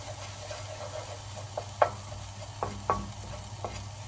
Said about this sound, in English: I'm just going to fry them off a little bit more